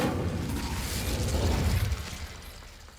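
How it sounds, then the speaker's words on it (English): The Incendio fire spell goes off in Hogwarts Legacy to light a brazier, a burst of whooshing flame with crackling and a low rumble that fades over a few seconds. "Incendio!"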